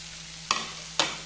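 Onions and capsicum stir-fried in a pan for soya chilli: a low sizzle under two sharp scraping stirs of a spatula about half a second apart, with no one talking.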